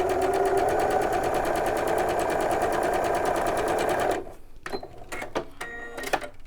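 A sewing machine stitches a patchwork block in a loud, steady run of rapid needle strokes lasting about four seconds, then stops abruptly, leaving faint clicks and handling noises.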